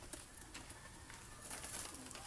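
Pigeons cooing among a group of birds, soft and faint within a noisy outdoor background, a low murmuring call over about two seconds with no talk.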